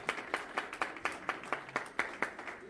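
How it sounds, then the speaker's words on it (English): Clapping from a meeting audience comes as a short run of evenly spaced, distinct claps, sparse and rhythmic rather than a full ovation, in a quiet room. "Let's give him a round of applause."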